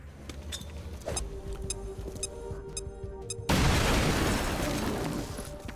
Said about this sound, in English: I'm going to use a grenade here. Frag out.